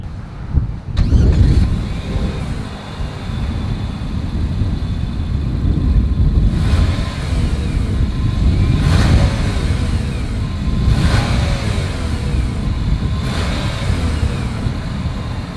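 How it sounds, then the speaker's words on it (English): A 2021 Nissan Rogue Sport's exhaust idles with a low, steady rumble, then revs up a few times, with wind buffeting the microphone throughout. "As always, here is that exhaust clip."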